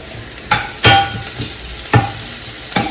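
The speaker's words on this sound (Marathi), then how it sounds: "तर इथे कांदा तर फ्राय झालेला आहे. हळद आणि थोडीशी लाल तिखट टाकते मी" Onion sizzles in a pan with turmeric and red chili, a steady close-up frying hiss broken by several sharp scrapes of a spoon stirring.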